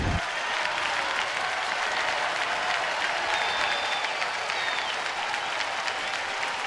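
A baseball stadium crowd cheers and applauds after a play in a game between San Francisco and Washington, a dense roaring wash of clapping and shouting that holds steady and loud throughout, with faint whistles.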